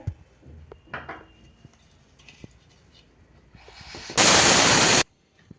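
A kitchen mixer grinder pulverizes dry sago pearls in its jar, a single loud, harsh whirring burst lasting under a second near the end, preceded by faint clinks and handling noises.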